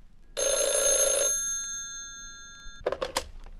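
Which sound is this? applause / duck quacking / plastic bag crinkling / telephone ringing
telephone ringing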